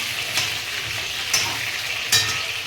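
Onions sautéing in hot oil for tomato rice: a loud, continuous frying hiss close by, broken by three short scraping stirs spaced about a second apart.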